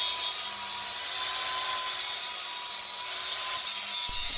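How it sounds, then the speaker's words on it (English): A boat's lower unit has barnacles ground and sanded off, making a loud, continuous abrasive rasp with small surges and dips in intensity, close up and with no voices. "Now it's time to go from these ugly barnacles to a beautiful ground and sanded lower unit"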